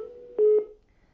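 Electronic telephone line tone on a TV news call-in connection: a single steady beep lasting about a quarter second, sharp and clear over a faint hum, then silence.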